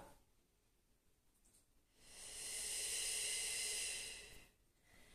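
A slow, deep breath drawn during a yoga exercise, a soft airy inhale building and holding for a couple of seconds before tailing off, fairly close and alone with no talk.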